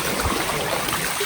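River water pours steadily over a village dam built across the stream in the Konkan countryside, a continuous close, broadband rushing wash with no voices.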